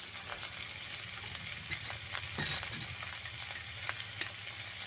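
Tomatoes with a spoonful of salt are stirred in a frying pan for a sour fish, tomato and kohlrabi dish, giving a steady sizzle with soft scraping and a few sharper clicks from the spatula.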